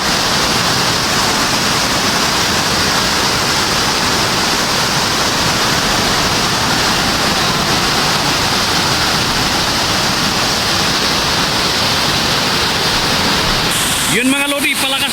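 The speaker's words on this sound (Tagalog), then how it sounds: "Wala nang ulan pero palakas ng palakas ang agos ng tubig." Rushing floodwater pours under a bridge in Santa Mesa, Manila, after Typhoon Carina, a loud, steady roar of turbulent current that fills the whole stretch, with a brief extra clatter near the end.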